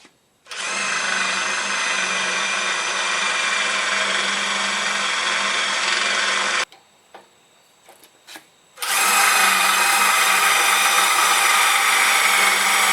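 A power drill whines loudly and steadily for several seconds, stops briefly with a few faint clicks, then starts up again at full speed, drilling bolt holes for a Jeep TJ Wrangler oil pan skid plate.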